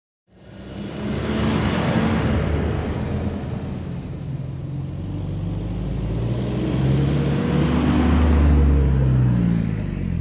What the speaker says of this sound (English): And then we enter the Bornholm Beach four-wheel drive track.